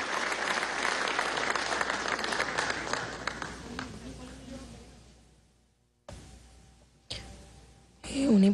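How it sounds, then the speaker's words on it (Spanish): Members of a national assembly at a solemn bicentennial session applaud as a speaker is invited to the podium; sustained crowd clapping gradually fades out, followed by short bursts of room noise and a voice at the close. "lo invitamos con un aplauso"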